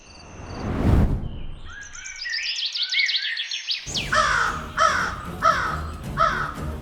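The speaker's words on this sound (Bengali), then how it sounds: "মা দেখো, কাক এসেছে, মুরগির বাচ্চাগুলো নিয়ে যাচ্ছে।" A loud whoosh, then a run of quick bird calls, followed by several harsh, repeated crow caws close by, as crows go after chicken chicks in an animated cartoon.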